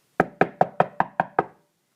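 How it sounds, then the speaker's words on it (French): A postman knocks on a wooden door: seven evenly spaced, firm raps in quick succession, close and clear against silence. "le facteur frappe à la porte"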